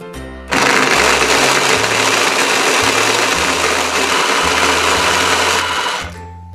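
A toy gumball blender runs for about six seconds, giving a steady loud motorized whir and grinding buzz that starts abruptly and stops, with a pulsing low hum underneath.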